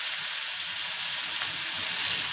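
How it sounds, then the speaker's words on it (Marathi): Finely chopped onion hits a pan already holding whole spices like cinnamon, cloves and black pepper, giving a steady, close, bright frying hiss that continues evenly throughout. "याच्यामध्ये टाकायचं आहे आपल्याला बारीक चिरलेला कांदा"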